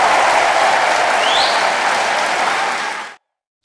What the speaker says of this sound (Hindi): जोरदार ताली के साथ स्वागत किया जाए ओवरथिंकिंग की।